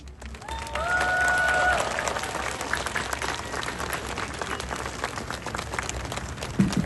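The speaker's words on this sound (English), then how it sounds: "One more round of applause" Crowd applause at an outdoor Stand with Ukraine rally in Calgary, a dense sustained wash of clapping with some cheering, loudest early then easing slightly, with brief voices over it.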